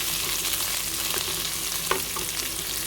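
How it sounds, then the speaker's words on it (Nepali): Chopped cabbage stirred and cooked in a pan, a steady close sizzle of frying with scattered scraping clicks of a spoon stirring through the leaves, no talk. "त्यसपछि अघि काटेर राखेको बन्दा पनि एड गर्ने। मजाले चलाउँदै एकछिन पकाउने।"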